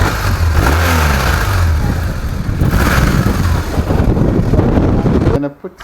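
A motorcycle engine runs smoothly and revs up and down in loud bursts, up close, then cuts off abruptly near the end, with some talking over it.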